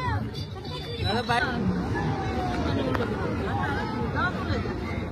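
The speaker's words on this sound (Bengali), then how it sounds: "আজকে তো ভালোই ভিড় আছে দেখছি।" Crowd chatter on a beach in Udaypur during Kartik Purnima festivities, a dense steady hubbub of many voices with wind and surf noise, while a nearby person talks over it.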